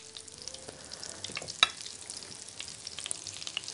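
A breaded beef schnitzel slice sizzles steadily in a hot pan, a continuous close frying hiss with small crackles and one sharp clack as it goes in.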